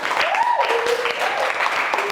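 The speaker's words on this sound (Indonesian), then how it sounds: "beri tepuk tangan dulu untuk kelompok 4" A classroom full of students claps for a presenting group, brisk and close applause with a voice speaking over it partway through.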